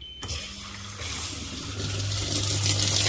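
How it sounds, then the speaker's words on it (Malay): A Samsung washing machine starts and water rushes in to fill the drum after the start button is pressed, a click followed by a steadily building gush of flowing water with a low motor hum. "Okay, air keluar. Maknanya lepas tampal gam tu okey lah. Boleh pakai. Air keluar laju."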